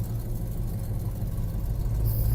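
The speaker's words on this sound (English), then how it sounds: "coming to you from my 1967 Chevelle as I drive to a school board meeting" A 1967 Chevelle's engine drones while driving, a steady low rumble heard from inside the car with no talk.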